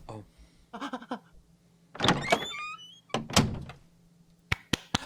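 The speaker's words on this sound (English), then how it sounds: "You got a front door opening and closing for me, Chunk?" A front door opens and closes amid voices and laughter, ending in a few sharp knocking thunks near the close.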